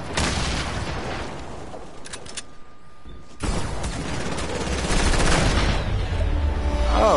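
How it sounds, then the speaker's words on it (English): AK rifle fire rattles through a shooter video game, dense bursts of gunshots at close range, a brief lull in the middle, then heavier firing resumes with booming impacts. "whoever shooting that AK about to get it"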